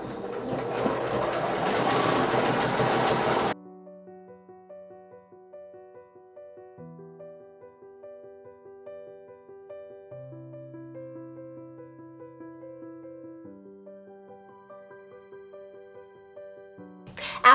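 A sewing machine stitches binding onto a sampler quilt in a steady, fairly loud run for about three seconds, then stops and soft background music continues alone.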